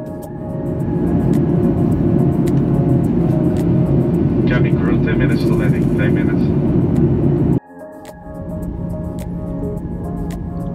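Loud, steady roar of a Ryanair Boeing 737-800 cabin descending into Lisbon, with a deep engine drone, which abruptly drops and shifts to a quieter hum partway through.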